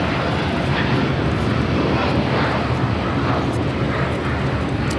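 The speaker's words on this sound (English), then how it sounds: "here we have United Airlines 801 now taking off to Hong Kong on the 787-9 Dreamliner" A United Airlines Boeing 787-9 Dreamliner taking off from LAX bound for Hong Kong, its engines a loud, steady, broadband roar that fills the whole stretch without pause.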